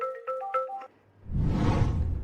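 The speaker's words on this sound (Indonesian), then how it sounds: "ada telepon dari Bapak Chen" A telephone ringtone plays as a short, bright melodic phrase of repeated electronic tones, clear and close, then stops and gives way to a burst of broadband noise.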